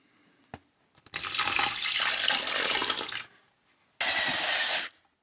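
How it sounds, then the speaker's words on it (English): Water pours into ceramic slip made from slip-casting trimmings, a steady rushing, splashing stream lasting about two seconds, a short pause, then a second brief pour, close and fairly loud with no talking. "So let's add a little bit more water."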